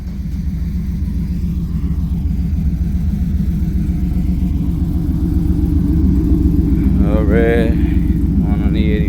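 Vehicles, including pickup trucks and a Harley motorcycle, idle nearby while being moved out of a driveway, a loud steady low rumble with a brief rise near the end; faint voices come through over the engines.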